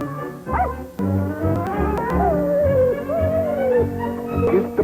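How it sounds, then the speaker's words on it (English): A dog yips, whimpers and lets out a drawn-out howling whine up close, loud and fairly continuous over a few seconds with no talk over it. "Oh, what a funny dog you are."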